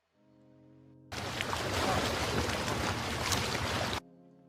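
A beach sounds effect from CapCut's audio library: washing surf and ocean wind noise that starts abruptly over a soft musical tone, holds steady for about three seconds, then cuts off.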